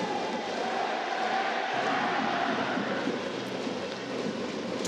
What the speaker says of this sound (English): the largest crowd ever to witness a Taiwanese baseball game